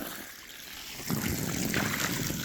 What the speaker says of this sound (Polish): my na razie napełniamy basen